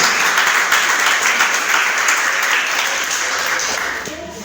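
A church congregation applauds during a sermon, a loud, dense wash of clapping that holds steady and then tapers off in the final moments.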